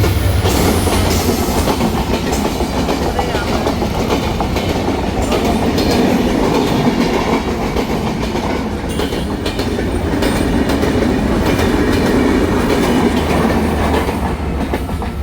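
A loud train rumbles past close by for a long stretch, with continuous wheel clatter and rattling cars, steady and unbroken throughout.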